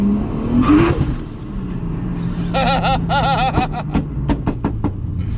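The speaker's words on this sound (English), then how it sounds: "You can hear it in the middle of the exhaust exploding." A sports car engine revs and drones, then a rapid burst of sharp exhaust pops and crackles rattles out in quick succession.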